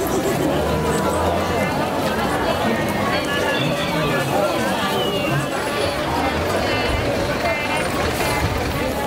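Busy indoor crowd babble of many overlapping voices and footsteps, steady and fairly loud throughout.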